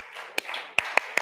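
Scattered sharp claps from a TEDx audience at Florida State University practicing a clapping rhythm, three or four distinct hand strikes over a soft murmuring room background, with no clear speech.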